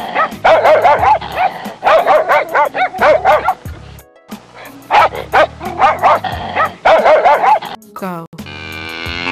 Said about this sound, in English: Pet animals, dog.